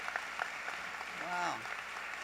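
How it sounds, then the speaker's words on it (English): An audience at an honors convocation applauds a choir with steady, moderately distant clapping, while a voice briefly speaks over it midway. "Let's give a round of applause for this wonderful choir."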